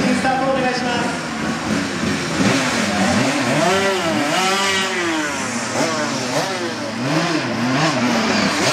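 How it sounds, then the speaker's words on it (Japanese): GT500 class race cars at Suzuka Circuit fire up their engines during a fan appreciation day, a loud, rising and falling chorus of revving exhausts with overlapping pitch sweeps, close by and continuous, over a crowd-filled background. "GT500 クラスのエンジンスタートお願いします。"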